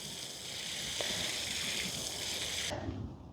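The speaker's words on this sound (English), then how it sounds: "I'm going to water, and I'm going to let that water soak in." Water pours steadily from a hose or can onto the soil around a newly planted Toka plum tree, a soft continuous splashing that cuts off abruptly near the end.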